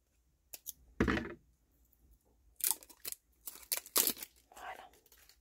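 Scissors or a blade work at a small craft item in several short, close snipping and crunching bursts, with quiet gaps between and faint whispered speech.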